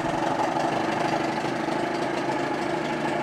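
A 1988 Johnson 30 hp electric-start tiller outboard boat motor idles in neutral with a steady, continuous mid-pitched drone and a rough, slightly knocking texture, close and alone.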